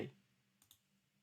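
A computer mouse gives two quick, faint clicks in a quiet room, close by and alone, after a short fading noise at the start.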